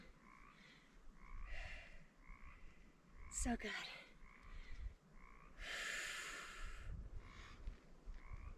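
Frogs croak outdoors at sunset in repeated raspy bursts, fairly faint and spaced irregularly, with a brief spoken remark and a breathy sound mixed in.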